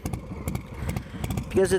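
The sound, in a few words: motorcycle with Cobra El Diablo exhaust, S&S 475 engine idling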